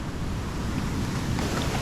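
Ocean waves and heavy swell roll onto a remote Australian beach, a loud, broad, continuous wash of surf mixed with wind rumble on the microphone, with no distinct individual breaks.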